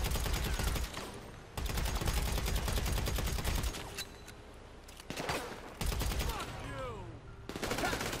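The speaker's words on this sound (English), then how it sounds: "Someone's shooting me." Rapid automatic gunfire in GTA V Online, loud dense bursts of shots separated by short pauses, with a voice briefly audible during the lulls.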